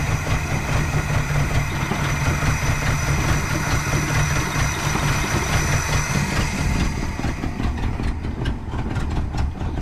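A 1967 Pontiac Tempest station wagon engine running rough and struggling to idle, a steady loud rumble with an uneven, pulsing beat throughout and no talking.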